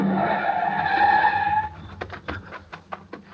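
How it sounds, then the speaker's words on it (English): A car roars close and fast, then skids with a sustained tire squeal before clattering to a stop, a loud sound effect in a radio drama. "The car was close now and moving fast."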